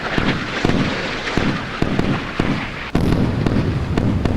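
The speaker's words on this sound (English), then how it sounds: "a supersonic missile could still get through" A supersonic missile being shot down in the naval combat game Sea Power, a rapid series of loud, punchy blasts and gunfire-like bursts rolling on continuously, ending in a heavier burst near the end.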